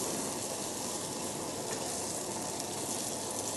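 Steady, loud sizzling of abalone searing in a hot dry pan, a continuous crackling hiss with no talking.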